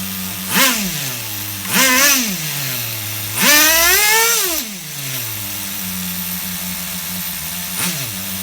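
Small nitro engine of an HPI RS4 F150 RC truck on the bench, loud and close, revving up in several rising blips and falling back to a low, steady idle between them.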